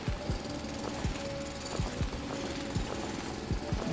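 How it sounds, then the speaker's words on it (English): Drilling in the Foundry mining game: a steady, loud machine rumble broken by repeated sharp impact bursts at a quick, irregular rhythm, heard alone throughout. "All I know is I've got a drill,"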